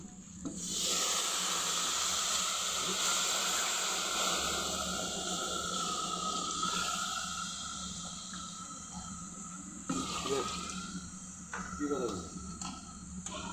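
Water poured into a pot of thin khichuri cooking on the stove sets off a loud, steady hiss and sizzle of steam that gradually fades, with a few clinks and stirring noises near the end.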